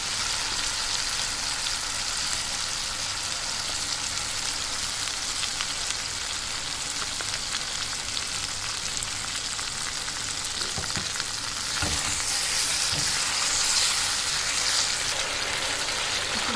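Masala with added tomatoes sizzles and fries steadily in a pan, with occasional scraping stir sounds; the frying grows slightly louder and brighter near the end.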